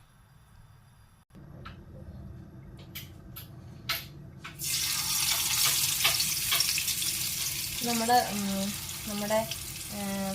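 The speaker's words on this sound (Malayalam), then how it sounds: "എണ്ണ നല്ലപോലെ ചൂടായിട്ടുണ്ടെങ്കിൽ നമുക്ക് ചെമ്മീൻ ഓരോന്നായിട്ട് ഇട്ട് കൊടുക്കാം കേട്ടോ." Prawns dropped one by one into hot oil set off a loud, steady frying sizzle that swells after a few seconds and fills the rest of the clip, with a voice speaking briefly over it near the end.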